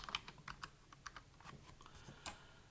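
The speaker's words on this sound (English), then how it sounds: "So let's type in Mary." Someone types on a computer keyboard, a quick irregular run of soft, close key clicks with no voices over them.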